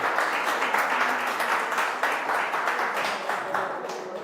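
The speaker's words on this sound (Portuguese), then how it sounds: "As palmas para o Senhor" A church congregation claps together in a lively burst, many hands beating in a loose shared rhythm that stays strong and fades slightly at the end.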